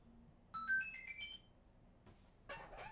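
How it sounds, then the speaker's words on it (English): An incoming-call phone ringtone plays a short electronic melody of bright tones, clear over quiet room background, followed by brief noisy bursts of handling or movement. "she's calling you so she can put you on the phone."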